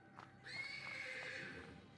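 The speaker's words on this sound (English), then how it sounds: "The persistent neighing of a horse can be heard from the stables." A horse neighs persistently in the stables in the video game Black Book, a drawn-out whinny heard fairly quietly after a short lead-in.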